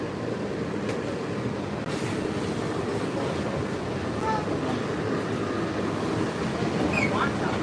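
A Walt Disney World monorail motor runs aboard the train, giving a loud, steady rumble and whirring drone throughout with no clear break.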